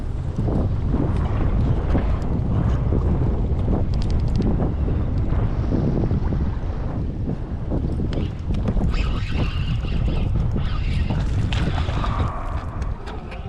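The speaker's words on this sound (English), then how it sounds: "The wind's coming from the northeast" Steady, loud wind buffets the microphone out on open water at Lake Chickamauga during a bass fishing outing, a continuous rushing roar with gusty swells and no voices.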